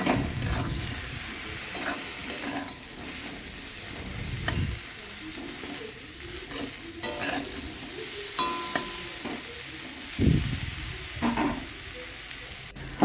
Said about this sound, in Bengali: এরপরে আমি বেগুনটা এর মধ্যে দিয়ে হালকা নেড়ে একটু নেড়ে তুলে নেব